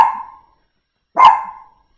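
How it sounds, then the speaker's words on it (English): A dog gives two short, sharp barks about a second apart, close and fairly loud, with silence between them. "Shh. Sorry, that's my dog."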